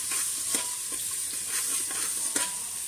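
Ginger, garlic and green chilli paste frying in hot oil with whole spices, a steady close sizzle with faint scraping stirs, no voices.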